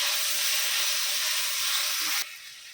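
Tomatoes sizzling and frying in a pan with onions and curry leaves, a loud, steady hiss up close that drops abruptly near the end, with no voices.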